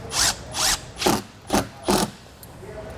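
Five short bursts of a power driver spinning screws into a MaxxFan Deluxe roof vent mounting bracket on a 2022 Grand Design Imagine travel trailer roof, each trigger pull a whirring ratchet-like buzz about half a second long with quiet gaps between.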